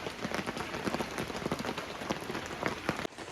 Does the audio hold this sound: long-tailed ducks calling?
no